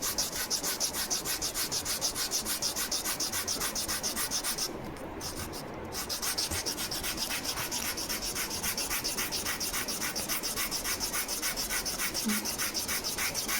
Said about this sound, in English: Hold your sanding block at an angle parallel to the line drawn by you and start